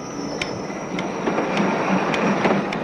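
An express passenger train departs with a steady, loud rolling rumble and a few sharp, regularly spaced clicks from the wheels on the rails. No voices are heard.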